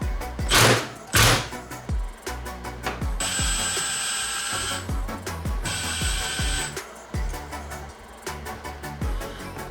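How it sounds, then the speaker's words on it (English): Allen bolts on a VTC cam gear from an RB26DETT engine are cracked loose with a hex wrench, giving close metallic clicks, taps and knocks, plus two bursts of a sustained high ringing tone. "Just gonna break these Allen bolts free."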